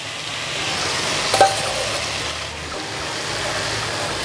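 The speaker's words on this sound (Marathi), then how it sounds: "झाकण न ठेवता साबुदाणा परतून घ्यायचा आहे." Potatoes and sabudana (sago pearls) are stirred in an uncovered pan, a soft, faint sizzle with one brief scrape of the spoon near the middle.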